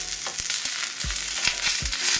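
Spicy coconut neer dosa cooking covered on a pan: a steady sizzling hiss punctuated by a few soft low thumps, close and continuous, with no voices.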